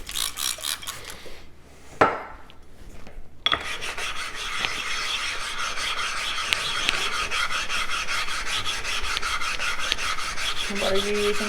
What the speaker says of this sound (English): I am using the NL4 diamond lapping plate to get a slurry and make sure that the stone is clean and flat and even.